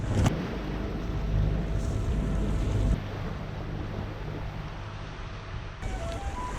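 A Lagoon 50 catamaran motors slowly on a single engine across the open Atlantic, a steady low engine drone mixed with wind and water rush, close and continuous, with no voices.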